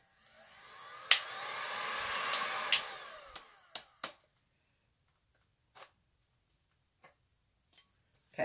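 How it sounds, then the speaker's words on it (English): A heat gun fitted with a nozzle attachment, used on resin over chipboard, blows with a steady whooshing hiss for about three seconds, then cuts off, leaving scattered clicks and small knocks nearby. "I have a heat gun that has attachments. And because of the way I want it to blow,"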